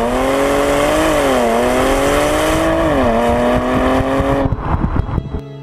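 A Porsche Panamera 4S with all-wheel drive and the Sport Chrono pack accelerates hard from a standstill. The engine note is loud and close, climbing through rising revs with a gear change, then dropping away into rumbling and rattles.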